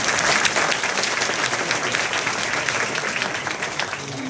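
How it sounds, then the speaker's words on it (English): A conference audience at the 42nd Vicenza Course applauds during an award speech, a dense, even wash of many hands clapping at once that holds steady and fills the space throughout. "Mom, stand up for a round of applause"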